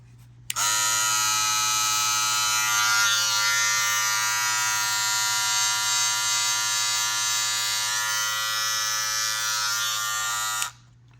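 An electric hair clipper runs steadily, a loud constant buzzing hum that starts abruptly and cuts off after about ten seconds, with nothing else heard.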